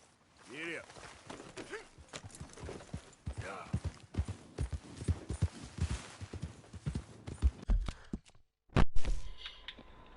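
Horse hooves clip-clop steadily during a ride in Red Dead Redemption 2, a brisk run of close, uneven hoofbeats with brief voice sounds at the start and a couple of louder thumps near the end.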